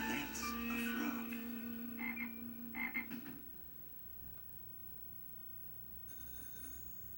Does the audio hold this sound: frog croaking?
yes